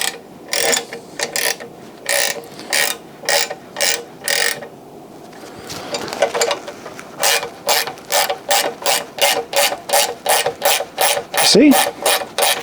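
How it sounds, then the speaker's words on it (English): A ratchet tightens a nut to press a bushing into a Saab 9000 lower control arm, giving repeated rhythmic bursts of loud, close pawl clicking, briefly interrupted in the middle by a softer scraping stretch. "When I tighten this one, it will be forcing the entire bushing that way."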